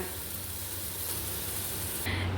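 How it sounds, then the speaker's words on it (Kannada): Paneer fries on a low flame with a steady, close hiss of sizzling oil that holds an even, dense texture throughout and swells slightly near the end. "ಹೀಗೆ ಲೋ ಫ್ಲೇಮಲ್ಲಿ ಫ್ರೈ ಮಾಡ್ಕೊಳ್ಬೇಕು"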